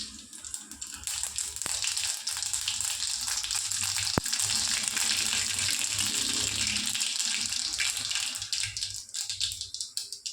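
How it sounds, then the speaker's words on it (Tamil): Mustard seeds splutter and crackle in hot oil along with cumin, cashews and chana dal, giving a steady, hissing sizzle with scattered pops that runs for about ten seconds. "கடுகு வெடிச்சிடுச்சுங்க."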